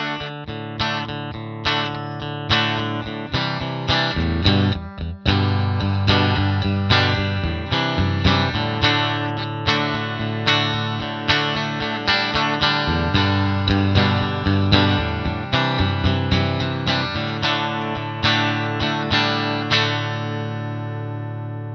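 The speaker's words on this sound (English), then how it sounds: "the JC Clean, inspired by the sparkling clean channel of the classic Roland JC120 Jazz Chorus." Electric guitar played through a Fender Tone Master Pro on its JC Clean amp model, inspired by the Roland JC120 Jazz Chorus clean channel: bright, sparkling chords and picked notes ringing continuously and fairly loud, with no voices.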